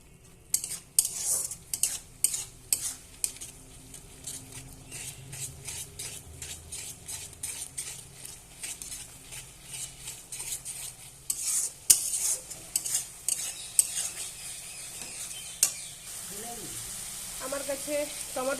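A spoon or spatula scrapes and clinks repeatedly against a pan while spice paste with turmeric and dried chili powder fries, rhythmic stirring strokes over a faint sizzle, fairly quiet and close.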